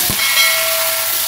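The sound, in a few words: chicken browning in butter and oil, sizzling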